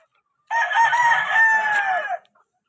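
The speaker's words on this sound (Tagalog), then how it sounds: "Puro mga healthy yan mga boss. Healthy chicken. Four months old." A four-month-old chicken gives a single loud, close crow lasting about a second and a half, with a drawn-out wavering tone, followed by quiet.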